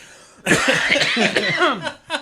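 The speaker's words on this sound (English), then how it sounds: "there's nothing I've wanted to do more than cough" A long, forceful bout of coughing up close, rough and breathy, ending with one short extra cough.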